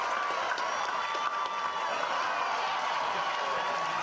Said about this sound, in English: The smiles on the kids' faces had the crowd cheering all game.